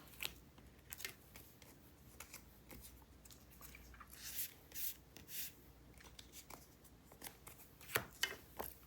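Photocards sliding into plastic sleeves, soft close rustling and scraping with crisp plastic crinkles and occasional sharper slides, faint and steady with no talking.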